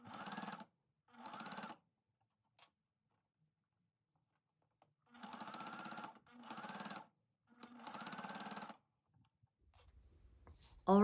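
A sewing machine stitches clipped cotton fabric rope in five short, close bursts separated by pauses, each burst a quick rattling run of stitches, ending with a brief sharp sound.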